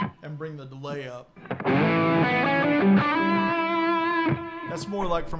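An electric guitar plays fast lines with the reverb off and the delay turned up, its distorted, sustained notes ringing with echoing repeats. Someone talks briefly at the start.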